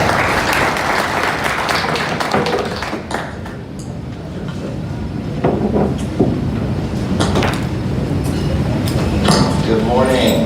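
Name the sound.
applause for the speaker Daniel Winston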